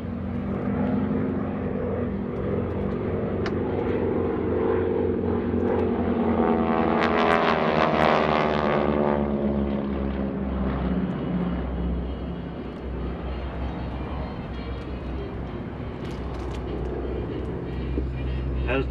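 North American SNJ propeller planes, flown by the GEICO Skytypers at a World War II air show, fly by in formation with a loud, droning engine roar that swells to a peak pass and then fades back to a steady hum, with commentary heard over it.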